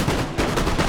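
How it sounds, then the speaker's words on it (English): Musket volleys from line infantry in the Empire: Total War battle game, a dense crackle of overlapping gunfire with broad noisy bursts rolling steadily through the whole second, loud and close. "Oh, we got shots fired."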